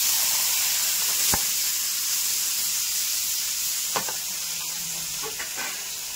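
Boiled chickpeas hitting hot butter in a pan give a steady broadband sizzle and hiss, with a few sharp clicks and stirring taps over the continuous frying.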